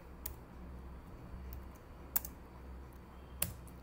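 Typing on a computer keyboard, faint and close, with a few sparse sharp key clicks over a low steady background hum.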